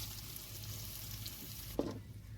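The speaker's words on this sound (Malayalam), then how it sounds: "എണ്ണ ചൂടായി വരുമ്പോൾ നമുക്ക് അതിലേക്ക് സവോള ഇട്ട് കൊടുക്കാം." Sliced onions fry in hot oil for a home-cooked mutton biryani, giving a faint, steady sizzle with a brief clink of a utensil near the end.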